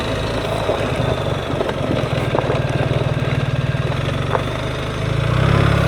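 BMW R1300 GSA motorcycle engine while riding in low gears, a steady pulsing drone close by that rises slightly near the end, with no speech.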